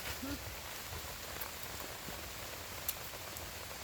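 Steady rain falls outdoors in a rural Thai setting where wild mushrooms are being gathered, making a continuous soft patter at moderate level with no voices.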